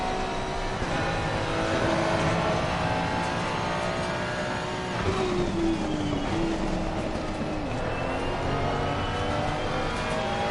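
Ferrari race car engines in an online racing game at Watkins Glen, a steady dense roar of several cars with rising and falling engine pitches sweeping past, loud and continuous with no talk.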